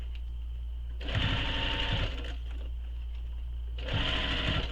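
A sewing machine stitches a pleated shoulder bag at bag-sewing stitch length, running in two fast, even bursts separated by a pause with a quiet motor hum in between.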